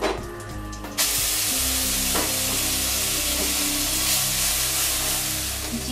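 Ginger paste and turmeric drop into hot oil with a sudden loud sizzle that settles into a steady hiss, with occasional stirring scrapes. Background music plays underneath.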